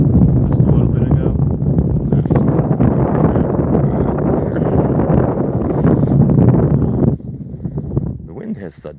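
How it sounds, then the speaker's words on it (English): Strong wind buffets the microphone on a frozen lake during ice fishing, a loud continuous roar and rumble that drops off near the end, while a person talks over it. "The wind has suddenly picked right up. Like, it's actually blowing quite heavily."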